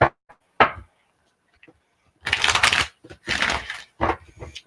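Tarot cards being shuffled by hand, a few quick riffling bursts with pauses between, close and alone with no talking.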